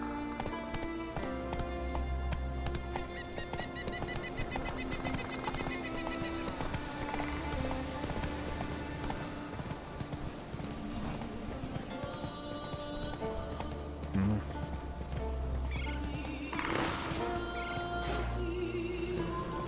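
Roach, the horse in The Witcher 3, gallops with a steady rhythmic clip-clop of hooves under game music and ambience, with a brief whinny partway through.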